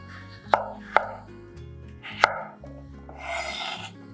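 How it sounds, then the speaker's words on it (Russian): Knife chopping peeled potatoes into not very large pieces on a board, three sharp close cuts in an uneven rhythm followed by softer rustling and scraping of the pieces. "Разрезаю картошку пополам и нарезаю вот такими не очень крупными кусочками."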